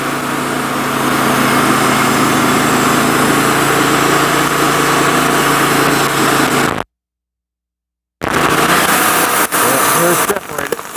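A sawmill blade runs slowly through a bullet-riddled black walnut log in a steady, loud, droning cut, then drops out to silence for about a second before the grinding motor noise resumes.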